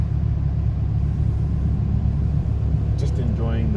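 A Toyota Supra mk3 rolls slowly through a drive-through queue. Its low, steady engine rumble fills the cabin, and a faint voice briefly shows near the end.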